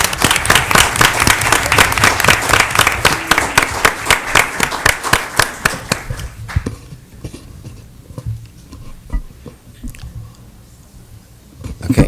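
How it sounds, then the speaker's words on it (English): People at a city council meeting give a round of applause. Loud clapping fills the room for several seconds, then thins into a few scattered claps and a quiet room. "Let's give them a round of applause."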